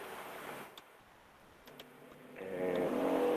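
A motorcycle passes in the distance outside a room, its engine note rising as it approaches and growing louder toward the end, with no talk over it.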